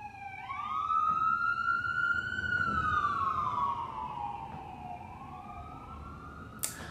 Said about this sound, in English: let me let the siren pass by.